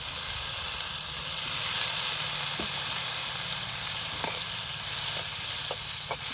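Spice paste for Bengali aloo dom sizzles steadily in a hot pan, a dense, constant frying hiss with a few faint stirring clicks and no voices.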